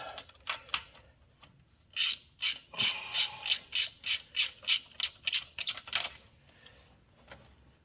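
A ratchet wrench works a stubborn bolt on a 1994 Chevrolet C1500 Silverado pickup, giving a few scattered clicks and then a fast, loud run of ratcheting clicks before slowing again.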